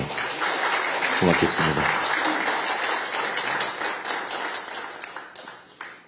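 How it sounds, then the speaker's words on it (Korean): Applause breaks out at a Democratic Party supreme council meeting in Busan, directed at President Lee Jae-myung. Many hands clap steadily at first and then gradually fade, with a brief spoken remark over the clapping. "여러분, 이재명 대통령께 박수 한번 보내주셨으면"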